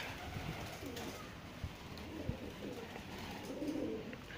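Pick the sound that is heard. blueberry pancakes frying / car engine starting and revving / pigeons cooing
pigeons cooing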